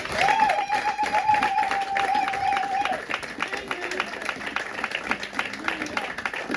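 Church congregation at a Sunday service applauds and cheers, a continuous crowd clapping with a held vocal exclamation early on, then quieter scattered claps and voices.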